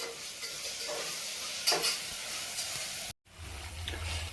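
Onion pakoda frying in hot oil: a steady close sizzle and hiss with a brief clatter partway, a short cut of silence, then frying resumes, with no talking.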